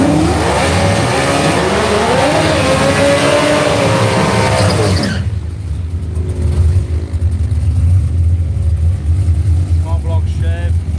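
Small block Chevrolet drag racing ute at a radial drag race in Australia, engine revving hard with rising and falling pitch before cutting to a loud steady roar, with an announcer talking over it.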